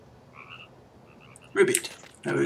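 A frog croaks in EverQuest II, two loud close croaks against a faint ambient game backdrop with soft tonal chirps before them.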